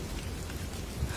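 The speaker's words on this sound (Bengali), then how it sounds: "ঝিরিঝিরি বৃষ্টি পড়ছে।" Light drizzling rain on a village road in the evening, a steady soft wash of patter with no voices, fairly even and close throughout.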